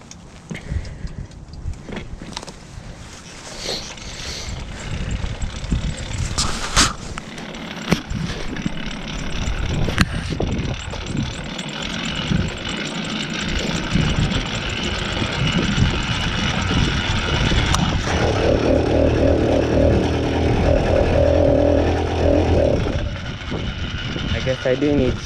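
A motorized bicycle's two-stroke engine fitted with an F2 thrust pipe is started and left idling, running loud and close with a raspy, uneven idle throughout, while someone talks over it.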